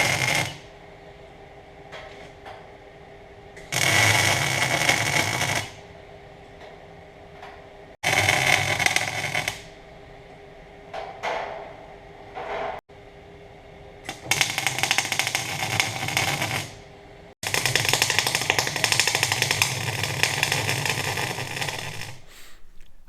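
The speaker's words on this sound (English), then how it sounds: "I just showed you a short clip of me spot welding it in from the tripod camera" A MIG welder lays spot welds on a steel dunnage rack in a shop, giving several loud, crackling buzzes of a few seconds each, separated by quieter gaps of background hum.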